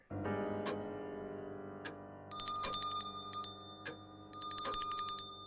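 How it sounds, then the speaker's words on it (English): A little bell rings in a horror audio drama, producing a bright, sustained metallic tone that swells in two louder bursts of rapid repeated ringing over lower resonant chiming, close and alone. "I'm so glad I found that little bell you had put on Stanley's finger. He could ring it whenever he needed you"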